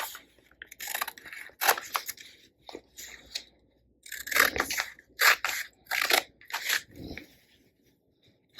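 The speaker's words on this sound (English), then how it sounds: "I am using just regular scissors for this part." Ordinary household scissors snip through Heat'n Bond fusible adhesive backing for fabric appliqué, giving a series of close, crisp cutting crunches in irregular bursts with short pauses between strokes.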